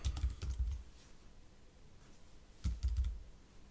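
Two short bursts of quick mouse clicks, like double clicks, made while editing text in design software, close and fairly loud with a quiet gap between them and no talking.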